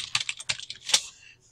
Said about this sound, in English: And I'm going to type in earth.